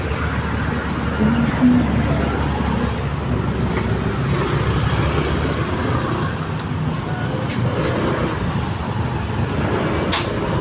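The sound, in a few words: heavy road traffic in San Juan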